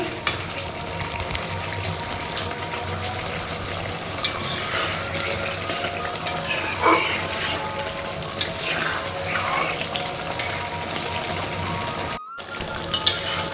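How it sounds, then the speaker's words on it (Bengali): Meat cooking with tomato in a pan in a home kitchen, with a continuous frying sizzle and occasional stirring and clinking, close and moderately loud, and a brief dropout near the end. "মাংস রান্না করছি তো মাংসতে আমি কিন্তু টমেটো দিয়ে রান্না করি"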